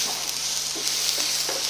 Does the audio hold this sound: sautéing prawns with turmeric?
yes